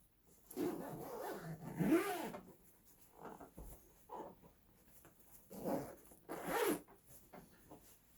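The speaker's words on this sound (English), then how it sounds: "I can zip the case up. The zippers seem fine." Several long zipper pulls in bursts on a soprano dulcimer case, a rasping zip sound repeating with short pauses between strokes, close by.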